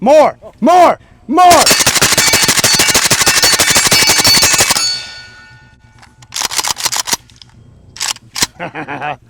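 A 7.62x39 rifle fires a rapid, sustained string of loud shots for several seconds, followed by a few scattered single shots, with brief voices at the start.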